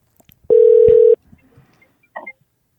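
A single steady electronic telephone tone lasts about half a second as a call is dialed, then quiet follows with a faint brief sound near the end.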